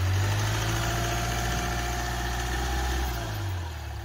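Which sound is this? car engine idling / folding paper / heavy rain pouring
car engine idling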